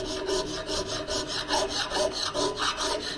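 A metal file rasps across a backscratcher in steady back-and-forth strokes, about two per second, close and even, with no talking.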